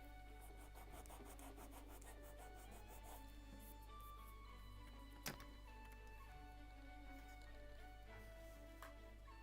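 Soft repeated rubbing of sandpaper on wooden first-layer planking of a Mayflower model ship, faint and close over a constant low hum, with one sharp tap midway.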